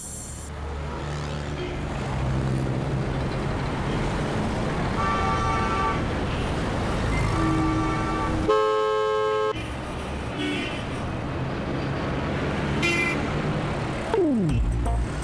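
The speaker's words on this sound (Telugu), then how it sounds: "ట్రాఫిక్ ఫుల్ గా ఉంది, కొంచెం జాగ్రత్తగా పోనీ, స్పీడ్ వద్దు" Busy road traffic rumbles continuously while several car and bus horns honk in separate bursts, some long and sustained, fairly close over the steady roar of engines.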